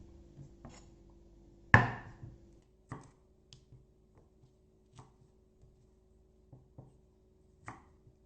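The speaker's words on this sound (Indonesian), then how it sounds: "Ini kita hanya geprek ya. Daun bawang putih." Garlic is smashed with a knife on a board: one loud sharp thwack, then a series of lighter scattered knocks and taps that fade in and out over several seconds in a quiet room.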